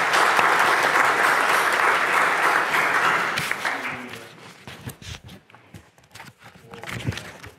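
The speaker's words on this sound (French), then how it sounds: "je pense qu'on peut applaudir l'ensemble des camarades" An audience claps loudly and steadily for about three seconds, then the applause thins out into scattered claps, footsteps and shuffling in a large meeting hall.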